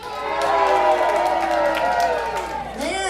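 An outdoor show crowd cheers and whoops loudly for a few seconds, with a Sons of Norway group among those asked to cheer, in a dense, sustained roar of voices.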